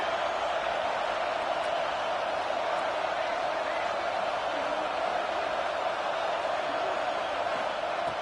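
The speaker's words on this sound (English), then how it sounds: "listen to this crowd noise. This stadium is vibrating." Dense, steady roar of a packed crowd at a Texas college football stadium, a continuous wash of noise with no pauses, loud and sustained throughout.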